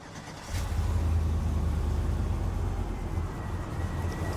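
A cammed 6.0 Silverado truck engine idles with its exhaust cutout closed, a deep, steady exhaust rumble that starts abruptly and holds a constant low drone throughout.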